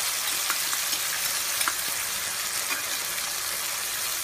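Onion, tomato and ginger-garlic paste sauté in hot oil for a country chicken gravy, giving a steady, close sizzle with faint stirring scrapes throughout and no voices.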